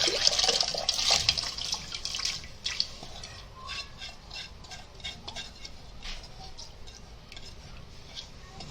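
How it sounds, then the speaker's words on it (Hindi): Water and lentils splash and pour into a pot with a rush at first, then settle into softer trickling and small clinks, fairly close. "अब ये दाल डालेंगे पानी के साथ।"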